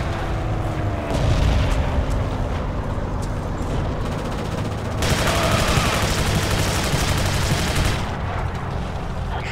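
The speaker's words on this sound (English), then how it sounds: "I'm gonna kill this machine gun." Machine gun fire in the World War II video game Forgotten Hope 2, a continuous crackle of automatic weapons with heavy booms and explosions layered in, loud and dense for the whole stretch, swelling in two intense bursts.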